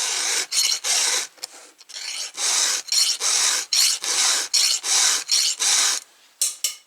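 A hand file rasps across chainsaw chain teeth in quick repeated strokes, each a bright scraping burst separated by short gaps, close and fairly loud with no talk.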